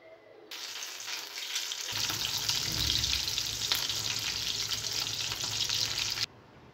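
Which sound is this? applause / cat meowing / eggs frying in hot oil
eggs frying in hot oil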